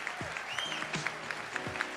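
Quiet, steady clapping from a conference general session audience, continuous but distant and soft throughout the short stretch.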